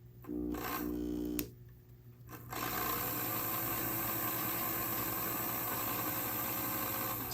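Small electric motor of an On30 model steam locomotive, old grease still inside, whirring steadily at three-quarter power after a brief start-up; a close, continuous buzzing hum with no voices.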